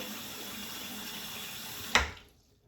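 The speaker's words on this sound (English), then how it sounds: "I'm gonna splash a little bit more water on my head." Water splashed onto a shaved head at a running tap: a steady rush of faucet water, then one short sharp splash near the end before the sound dies away.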